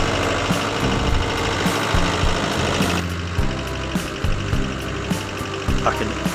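A small farm tractor fitted with a rear box runs steadily nearby, its engine putting out a loud, lumpy, knocking idle with a regular pulsing beat throughout.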